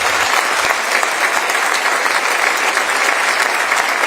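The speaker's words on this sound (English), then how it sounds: "could we please give them a round of applause?" An audience at a university address applauds the board of trustees, a loud, even wash of clapping that holds steady from start to finish with no talking.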